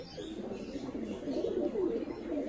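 Andra Fulshira pigeons cooing steadily in a loft, a continuous layered murmur of soft throaty coos from several birds close by, with no talk over it.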